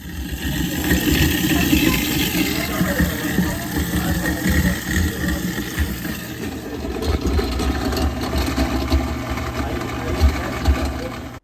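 A garbage disposal grinds hard food waste with a steady mechanical roar, loud and close, with a low motor hum underneath and rattling crunches throughout.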